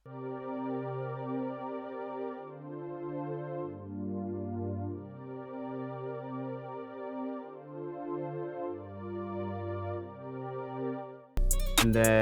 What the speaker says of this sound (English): I added a pad from Expand 2, and it sounds like this.